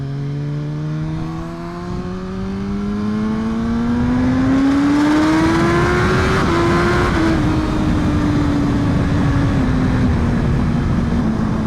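A BMW HP4 Race motorcycle on new slick tyres rides slowly along a canyon road. Its engine drones loud and close, rising gradually in pitch before holding steady.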